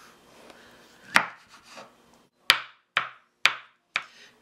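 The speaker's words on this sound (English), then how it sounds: "after cutting your tomatoes into nice little slices, I like to go a little further, cut them in halves" A knife chops tomatoes into chunks on a cutting board: one solid thunk, a pause, then four sharp evenly spaced knocks, close and clear with a quiet background.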